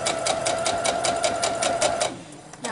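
Sewing machine stitching quilt fabric runs steadily and close for about two seconds with a rapid, even whir, then stops, leaving quieter room sound.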